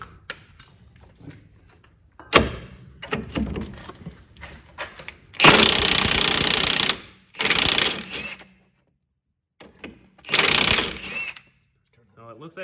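Several loud bursts of an impact wrench hammering at a sway bar link nut on a Chevrolet HHR, each lasting a second or two with pauses between, preceded by quieter mechanical clicks and handling.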